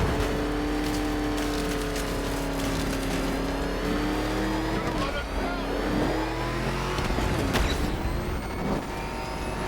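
Car engine droning steadily while driving in Batman: Arkham Knight, loud and continuous with rising revs and a brief tire squeal, under occasional speech.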